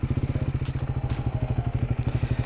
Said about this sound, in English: let's start it up and we can see what it sounds like